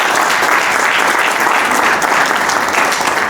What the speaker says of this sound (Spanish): Un fuerte aplauso una vez más para él también.